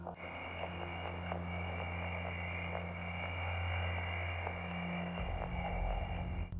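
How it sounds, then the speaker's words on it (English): Jupiter's radio emissions from electrons spiralling along its magnetic field lines, recorded by Voyager 1: a steady buzzing hum with static and soft rhythmic pulses, changing character near the end. "The sounds you hear here come from streams of electrons spiraling along the magnetic field lines encircling the planet"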